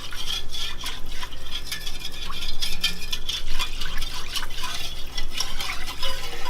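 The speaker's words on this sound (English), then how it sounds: "So you just whisk it for a few minutes" A whisk stirs a sauce for homemade mac and cheese in a pot, producing continuous close scraping and liquid swishing in a steady rhythm without pause and with no speech.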